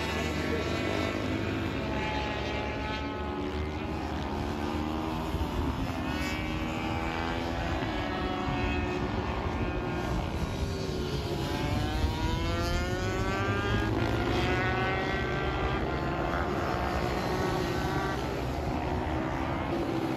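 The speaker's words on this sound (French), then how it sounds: "un collègue qui roulait avec un 85 qui mettait grave le son d'ailleurs" A loud 85cc motorbike engine revs continuously on a supermoto race track, its buzzing two-stroke-like whine rising and falling steadily throughout with no talk over it.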